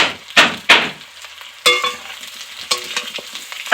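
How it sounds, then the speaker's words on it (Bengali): Onion, potato and papaya frying in a pan: sharp bursts of sizzling with spatula stirring scrapes, several loud strokes in an irregular rhythm, close by with no talk. "এগুলো ভাজা হতে হতে পেঁয়াজটাও ভাজা হয়ে যাবে"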